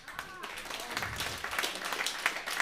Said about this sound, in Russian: Вы можете хлопать?